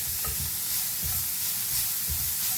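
Leeks frying in a pan while being stirred for a curry bun filling, a steady close sizzle broken by a few scraping stirs, with no voices.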